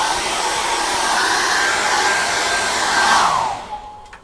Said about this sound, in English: let's get the hairdryer on that again